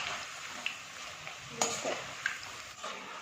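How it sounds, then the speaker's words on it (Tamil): Bitter gourd chips frying in oil over a medium flame, a soft steady sizzle broken by a few light clinks and scrapes of a utensil turning them, fairly quiet, no talking. "மீடியம் ஃப்ளேமில் வச்சே பொரிச்சுக்கலாம், இல்லைன்னா தீஞ்சிரும்."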